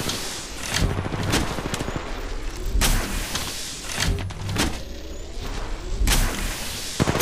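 Gunfire rings out in the Apex Legends Mobile video game, loud repeated bursts and heavy thumps over a constant roar of battle, the shots coming every second or so.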